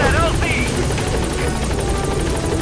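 Helicopter rotor and engine noise from the Metal Gear Solid V video game as the aircraft arrives at a landing zone, a steady loud drone filling the whole clip, with game radio voice and effects over it.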